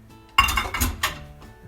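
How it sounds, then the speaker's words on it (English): Tomatillos are dumped into a colander with a few quick clattering bumps of fruit against the metal, close and fairly loud, each rattle fading fast. "Let's dump these beautiful tomatillos into this colander."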